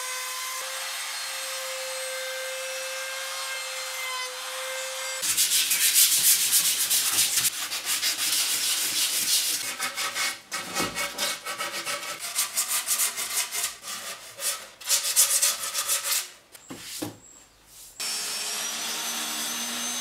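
Wooden edges being rounded for homemade pipe organ bellows: a steady tone first, then loud, close abrasive rubbing and sanding that keeps going with uneven strokes, short pauses and a running motor-like hum.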